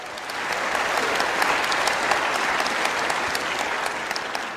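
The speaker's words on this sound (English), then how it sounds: "Let's have a round of applause for Ray." Steady applause from a crowd, sustained clapping at an even level throughout with a few sharper claps standing out.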